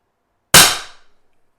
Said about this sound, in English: Now let's see what kind of trigger pull we got this time.